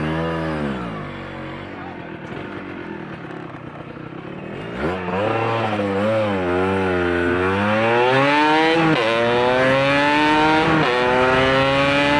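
Yamaha RD 125 LC two-stroke motorcycle at a cafe bike night revs up with a rising, wavering buzz, then pulls away through repeated climbing gear changes, loud and close; people chat nearby.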